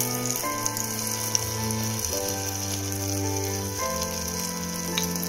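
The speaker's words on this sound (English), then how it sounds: "Already I have kept the oil to heat and now I am dropping the vadas in" Medu vada batter made from urad dal frying in hot oil, giving a steady, moderate sizzle throughout with sustained musical tones playing underneath.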